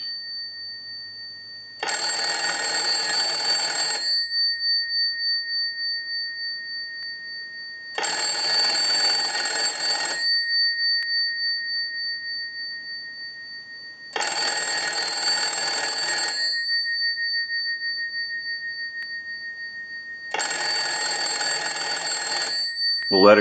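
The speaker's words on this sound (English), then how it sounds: "send a ring cycle to the bell box" A Stromberg telephone bell box rings in four long bursts of about two seconds each, spaced by quiet gaps as an analyzer sends its ring cycle, loud and close with no talking.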